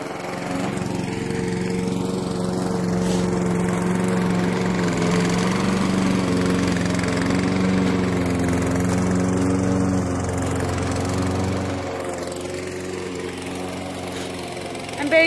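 A lawn mower engine runs steadily at close range with a constant droning hum, its pitch dropping slightly near the end as it eases off.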